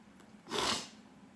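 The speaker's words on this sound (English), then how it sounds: "Excuse me, I sneezed." A single sharp sneeze bursts out against a quiet background, a brief explosive burst of breathy noise lasting under half a second.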